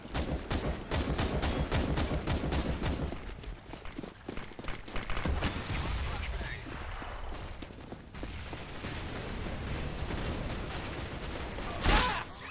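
Gunfire in Counter-Strike: Global Offensive, dense bursts of rapid shots early on that thin into scattered reports, with a sharp loud crack near the end.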